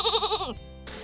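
A sheep bleats loudly and close up in a single wavering, quavering call that stops abruptly, leaving near silence before a short burst of noise.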